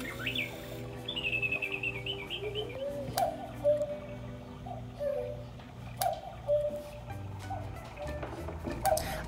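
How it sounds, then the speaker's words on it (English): Swiss cuckoo clock chiming indoors, repeated two-note cuckoo calls at regular intervals over a soft steady tick, fairly close and alone. "I wanted to show off my cuckoo clock that I got in Switzerland"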